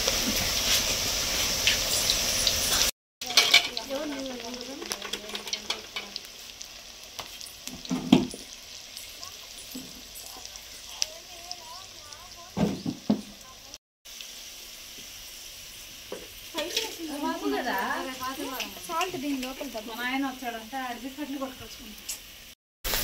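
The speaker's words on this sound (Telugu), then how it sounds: "ఆనియన్స్ ఫ్రై అయిపోయాయి." Onions fry in a pan for gobi manchurian with a steady hissing sizzle and occasional stirring scrapes, while people talk over it at intervals.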